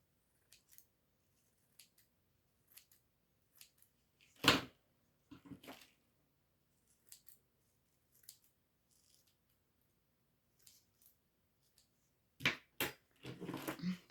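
Scissors snip at paper in short, scattered cuts, with a few louder crisp snips and brief rustling, close by in a quiet room.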